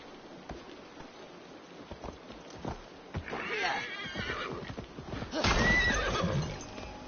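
Horse hooves clip-clop at a gallop in Assassin's Creed Valhalla, with the horse letting out a loud neigh partway through; ambient game sound sits underneath and the hoofbeats grow louder toward the end.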